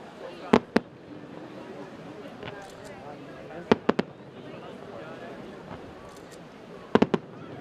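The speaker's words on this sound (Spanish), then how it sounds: "el broche final lo pusieron un año más los fuegos artificiales que se lanzaron desde el castillo de San Sebastián" Fireworks launched from San Sebastián castle in Cádiz go off in sharp, distant bangs that come in pairs and small clusters, spaced a few seconds apart over a soft murmuring background.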